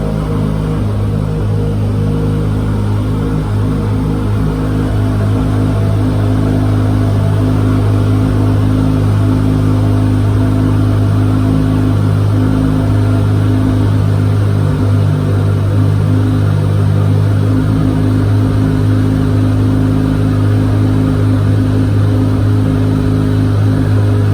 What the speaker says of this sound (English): Sounds pretty good with a titanium exhaust.